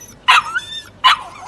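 A puppy lets out two short, sharp yips about a second apart, close by and alone, as though asking to be let outside.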